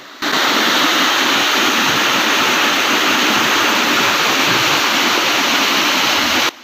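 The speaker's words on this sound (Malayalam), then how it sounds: "തികച്ചും ഗ്രാമീണ ഭംഗിയുള്ള ഒരു വെള്ളച്ചാട്ടമാണ് പോലിയൊരു വെള്ളച്ചാട്ടം" A rural waterfall roars in a loud, dense, unbroken rush of falling water, close by and steady from start to finish.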